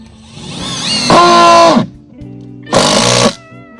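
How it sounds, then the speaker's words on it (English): A power drill drives screws into a shed, giving two loud, close whirring bursts, the first ramping up and running about a second, the second shorter, with a quiet pause between and no talk. "We're just putting in the final screws."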